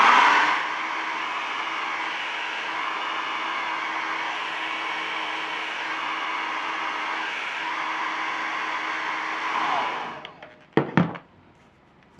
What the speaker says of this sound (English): I'm using a hairdryer here and I'm going to be applying the heat for about 1 minute.